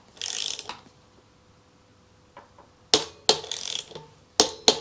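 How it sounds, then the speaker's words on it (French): A torque wrench set to 10 Nm tightens the nut on a bicycle wheel fitted with a Hutchinson Tundra tire. Sharp, close ratcheting clicks come in a short burst, then a pause, then several quick clusters. "maintenant, je vais prendre une clé dynamométrique que j'ai réglée à 10 Nm"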